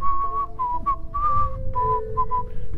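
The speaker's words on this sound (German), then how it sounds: "Pfeift auch gerne." A person whistles a melodic tune while walking through a forest, clear and close, with short phrases and brief pauses over faint outdoor background noise.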